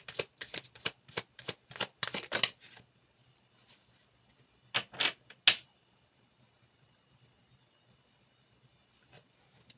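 Tarot cards being shuffled close up: a fast run of crisp riffling snaps, then a quieter pause and a couple of shorter riffles in an otherwise quiet room.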